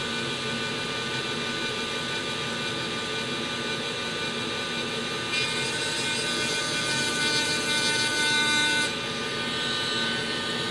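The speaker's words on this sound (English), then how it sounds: "Am I using the wrong part of the grinder?" A grinder runs continuously at a steady, loud whine during console refurbishment and soldering repair work, its pitch brightening and intensifying midway for a few seconds as the tool bears down harder, then easing back.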